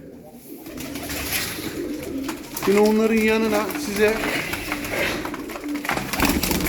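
Çakmaklı pigeons cooing close by in a loft, soft rolling coos rising over a busy background while someone talks in Turkish.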